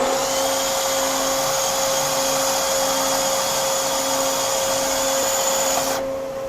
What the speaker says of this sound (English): take our trusty M12 bandsaw, and give her the old what for